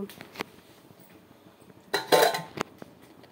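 Knife chopping vegetables (peas, beans, cauliflower, tomato) in a home kitchen: a few scattered taps, then a denser burst of clattering cuts against a board and dish, moderately close, no talk.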